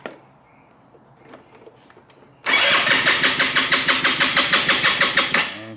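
Car engine, just fitted with a replacement starter, cranking briskly with a rapid rhythmic chug for about three seconds after a quiet click, loud and close, no talk.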